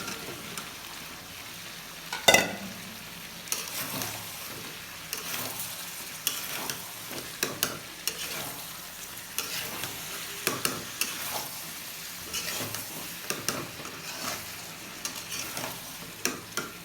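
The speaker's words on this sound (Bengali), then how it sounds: "আমি এই পর্যায়ে এখন আলু আর পেঁপেটা দিয়ে আর একটু কষাই নেব।" Chicken, potato and papaya stir-fried in a pan, giving a continuous close sizzle broken by repeated spatula scrapes and clacks, one sharp knock near the start, moderately quiet, no talking.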